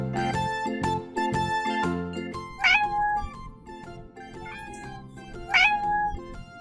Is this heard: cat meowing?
yes